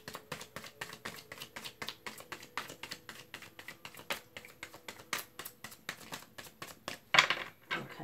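A rapid series of light, crisp taps and riffles, like cards being shuffled close by, quiet and steady with a brief louder burst near the end.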